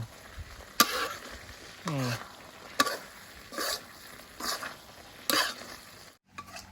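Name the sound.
stir-frying spicy paddy eel curry until dry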